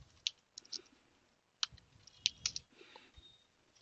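A computer keyboard clicks with scattered, quiet keystrokes as a password is typed: small irregular clusters of taps separated by short pauses.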